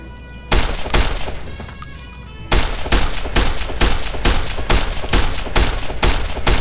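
Loud, close bursts of rapid gunfire from enemies in the game Fallout: New Vegas, a short volley followed by repeated sharp shots in quick succession, with no voices.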